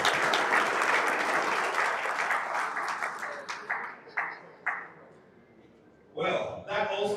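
Audience applause at the opening of a Scrabble tournament day in Accra, a large hall of clapping that swells then thins into scattered claps, with a brief renewed burst near the end.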